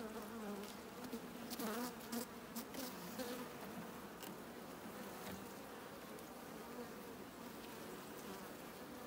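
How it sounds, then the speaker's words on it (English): Honeybees buzz steadily over the comb of an open hive during re-queening and splitting, a dense, continuous close-up drone with a few sharper individual wingbeats passing near. "These bees are sort of a bit skitty. They are running about a bit."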